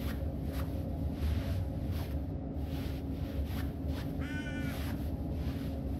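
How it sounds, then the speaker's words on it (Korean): Crow cawing inside a horror video game, a few harsh calls spaced out over a steady low ambient drone, with one raspier rattling caw near the end; no talk. "까마귀 소리 들린다."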